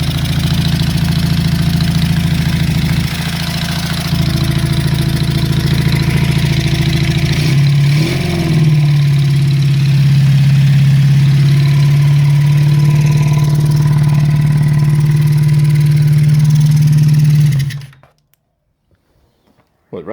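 A Honda CB350 Four motorcycle engine runs rough on only some of its cylinders, with a noisy number 2 carburettor. It holds a loud, steady low drone that shifts pitch midway, then cuts off abruptly near the end.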